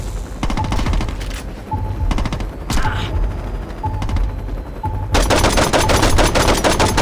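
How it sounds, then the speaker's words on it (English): Rapid bursts of gunfire from dual pistols and other weapons in the video game Saints Row 2, loud and sustained with brief gaps, then a denser barrage near the end. "Who's shooting at us?"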